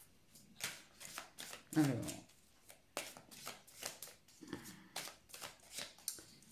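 Tarot cards shuffled by hand before one is drawn, a series of crisp riffling and sliding bursts up close, with a soft voice speaking briefly over the start.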